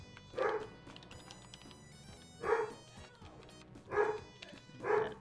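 Charlie the dog barks four times in evenly spaced bursts, each loud and close, over a quiet bed of tonal music.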